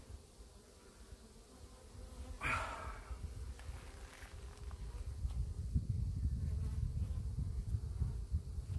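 Honey bees buzz around hive boxes during a hive inspection, a continuous low droning hum that grows steadily louder and denser, with a brief rustling sound early on and no talking.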